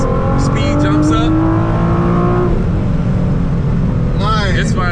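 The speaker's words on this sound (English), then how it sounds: "So this is called anti-lag. When you hear this, the turbo is building." Nissan GT-R with anti-lag turbo building boost as the car accelerates hard, a loud continuous rising engine roar with fluttering turbo sounds at the start and end, close and dominant.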